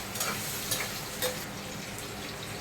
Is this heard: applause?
no